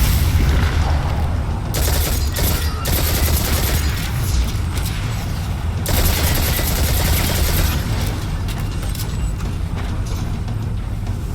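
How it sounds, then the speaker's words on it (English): Submachine gun fire in the Destiny 2 video game, a dense, sustained rattle of rapid shots mixed with booming impacts, loud and nearly continuous with short lulls. "Eat submachine gun."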